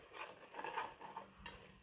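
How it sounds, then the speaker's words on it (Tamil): Quiet sizzling and stirring of tomatoes sautéing in a pan, soft scraping strokes over a faint frying hiss, with no talking. "இப்போ இந்த தக்காளி நல்லா வதங்கட்டும்"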